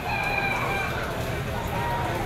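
Chickens crow and cluck at the Lipa poultry auction market, with a rooster's call rising over a busy crowd-filled backdrop of voices and noise.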